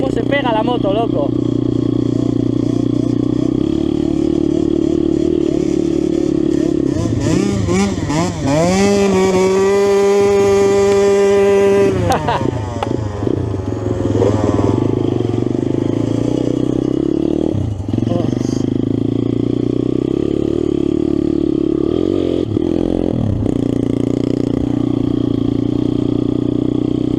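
A Yamaha YZ 125 motocross motorcycle drones loudly and continuously, with its engine note climbing and falling through a sustained rev midway, all heard up close.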